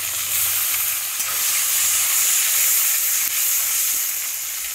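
A small tomato hits hot oil in a pan while a potato and pointed gourd curry is being cooked, and it gives off a steady, bright sizzle with a soft hiss that runs evenly throughout, with no voices.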